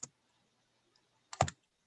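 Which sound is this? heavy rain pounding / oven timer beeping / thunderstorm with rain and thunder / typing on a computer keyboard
typing on a computer keyboard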